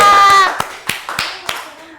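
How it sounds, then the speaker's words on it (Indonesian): A few sharp claps from a classroom audience praising a student named Sheila, spaced out and tapering off after a voice, with speech-like tones at the start. "Tepuk tangan dulu dong buat Sheila."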